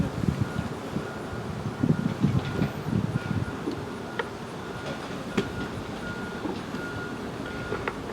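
Steady, heavy roar of passing vehicles on Highway 441 with low rumble and occasional faint beeps, constant and fairly loud with no voices.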